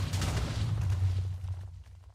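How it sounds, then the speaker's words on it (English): A block-breaking blast in a game, a loud deep rumbling explosion that roars at full strength and then tapers off with scattered debris crackle, with no talking. "So it actually absorbed the explosion pretty well"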